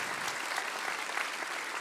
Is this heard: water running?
no